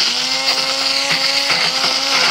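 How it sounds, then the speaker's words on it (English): Immersion blender whirring through a breadfruit curry sauce, a steady high-pitched motor drone with slight pulsing changes in load, loud and close, no speech. "we're gonna just use an immersion blender to blend this up"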